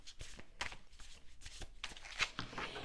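Oracle cards riffled and shuffled by hand for a reading, a string of soft papery slaps and flutters, close and quiet, with no voices.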